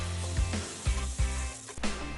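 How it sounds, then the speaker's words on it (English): Onions sauté in hot oil in a large saucepan, giving a continuous close sizzle broken by several low thumps and scrapes as they are stirred. "you're going to add your onions and saute them until they become translucent"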